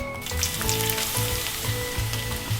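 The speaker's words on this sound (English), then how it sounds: "So it's sizzling up." Spices sizzle steadily in hot oil, a close, continuous crackle with soft low thumps pulsing underneath.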